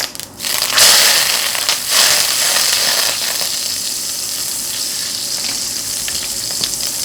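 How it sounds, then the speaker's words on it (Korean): Butter melting into olive oil in a hot pan, a loud close crackling sizzle that flares up at first and then settles into a steady frying hiss. "올리브오일 2스푼 넣어주세요 버터 1스푼을 같이 녹여주겠습니다"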